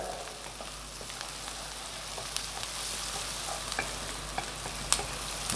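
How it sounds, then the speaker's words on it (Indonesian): Beef sautés in a pan for beef bourguignon, a steady close sizzle with scattered scraping clicks of a utensil stirring, a few sharper taps near the end. "Tumis sedikit sebentar ya."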